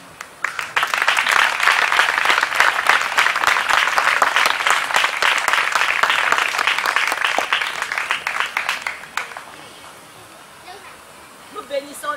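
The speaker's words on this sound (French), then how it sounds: "On va ensuite acclamer le Seigneur pour Papa Benjo" A wedding audience breaks into loud, dense applause acclaiming the Lord for a father figure, sustained for several seconds before thinning out and fading, with voices mixed in.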